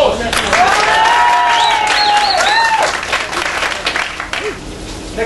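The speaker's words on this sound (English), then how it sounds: "I think that deserves a round of applause." An audience at a Ready Steady Cook cooking demonstration at the NSA North Sheep 2011 show breaks into loud, sustained applause that holds steady, then gradually thins toward the end.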